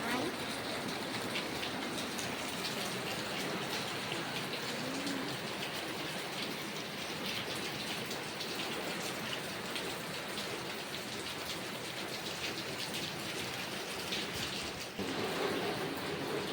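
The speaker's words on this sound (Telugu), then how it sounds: "ఫుల్ వర్షం పడుతుంది" Heavy rain pours down steadily, a dense continuous hiss that stays loud and unbroken throughout.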